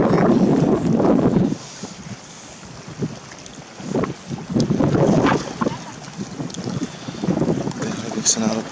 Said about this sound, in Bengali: নদীতে প্রচন্ড বাতাস, একটা মনোমুগ্ধকর পরিবেশ।